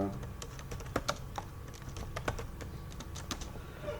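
Keys tapped on a computer keyboard while entering text in a design program, a steady run of close, light clicks with a few sharper strokes over a low background hum.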